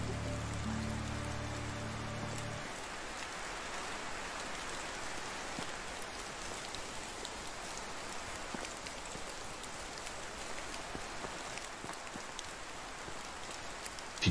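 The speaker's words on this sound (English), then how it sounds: "it starts raining just in time to get home" Steady rainfall in a video game patters continuously, a soft even hiss that holds throughout after a low tone fades out early on.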